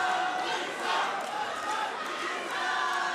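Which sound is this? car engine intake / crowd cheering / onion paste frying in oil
crowd cheering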